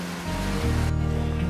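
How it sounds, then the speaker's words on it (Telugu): Water from a pumping scheme's pipes pours out and flows downhill toward crop fields, a loud, continuous rushing close by with a steady churning roll and no one talking. "ఆ పైపుల నుంచి వచ్చిన వాటర్ వీటి నుంచి దిగువకి వెళ్తాయి"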